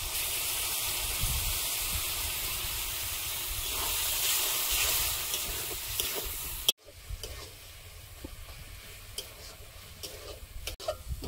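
Green chilies, tomato and spice paste sizzle and hiss in a pan, a steady close frying texture that breaks off sharply and continues quieter with faint ticks and stirring.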